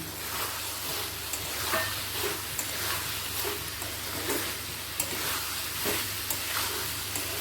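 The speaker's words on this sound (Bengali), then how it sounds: "আলু আর সয়াবিনটা দিয়ে ভালো করে মশলার সাথে মিশিয়ে নেব" Fried potatoes and soybean chunks stirred into sizzling masala in a pan, a dense close sizzle with regular spoon scrapes and clicks against the pan, no talking.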